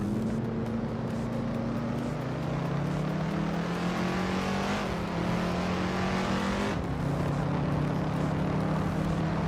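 Racing cars in a video game, one a 1965 Ford Mustang, roar continuously with engine drones rising and shifting pitch, steady and loud throughout.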